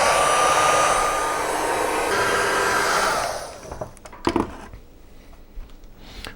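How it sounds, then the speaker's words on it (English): Heat gun blowing on low heat to warm a Yamaha Tracer 900 LCD dash screen, a steady loud airy whoosh for about three seconds that cuts off, followed by faint handling clicks and taps. "what we're gonna use is a heat gun, and what we're gonna do is just warm up the LCD screen a little bit"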